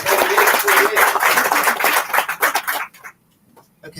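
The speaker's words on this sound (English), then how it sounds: "Round of applause." A room full of people claps at a college graduation launch event, a dense patter of hands for close to three seconds that cuts off abruptly into near silence, with a few faint sounds near the end.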